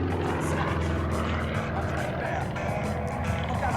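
Yak-50 aerobatic airplane performing a sharp turn at the Cold Lake Air Show, a continuous loud, rough radial-engine and propeller drone blended with crowd and wind noise.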